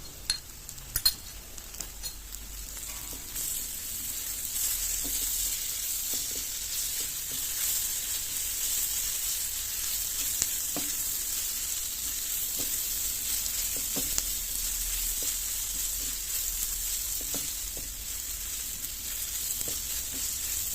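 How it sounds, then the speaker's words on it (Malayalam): Sliced onion with ginger-garlic paste sautéing in a pan for a Kerala-style green peas curry, a steady close sizzle with scattered scrapes and clinks of a spoon stirring, no voices. "ഇഞ്ചി വെളുത്തുള്ളി പേസ്റ്റ് എടുത്ത് വെച്ചത് ഇതിലിപ്പോൾ ചേർത്ത് കൊടുത്തിട്ട് അതും കൂടി ചേർത്ത് വഴറ്റിയെടുക്കാം"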